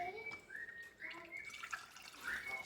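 Homemade kombucha pouring through a funnel into a bottle, a quiet trickling and gurgling with rising tones as the bottle fills, faint and close, with no one speaking.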